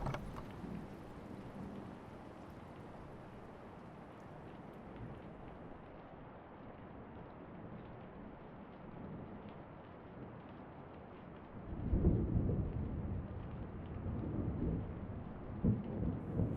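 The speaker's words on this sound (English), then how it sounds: "The closing of the door mutes the storm a little." Steady rain with low rumbling thunder outside, heard muffled as if through a closed door. The wash stays even and soft, then a louder rolling rumble swells near the end.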